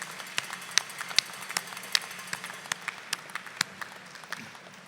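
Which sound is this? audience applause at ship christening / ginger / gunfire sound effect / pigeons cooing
audience applause at ship christening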